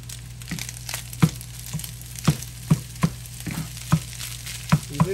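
Meat sizzling and frying in a pan seasoned with garlic pepper, with steady crackle and repeated sharp scraping knocks as a utensil chops it up, roughly one every half second, close by and alone.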